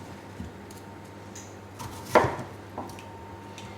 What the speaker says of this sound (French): Et puis les patates, moi je les coupe.